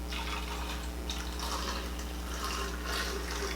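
Cooking water left from boiling pozole meat is poured out in a soft, steady trickle with faint splashing, quiet and close, with no voices.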